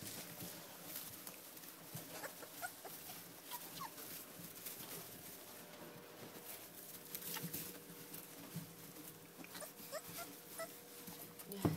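A litter of eight puppies nursing makes faint, scattered whimpers and soft squeaks, close but quiet, with light shuffling underneath.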